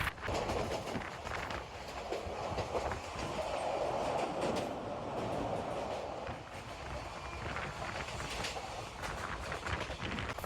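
The 13465 Howrah–Malda Town Intercity Express via Azimganj rolls along in a steady, loud rumble with clattering wheel-on-rail noise that persists evenly throughout.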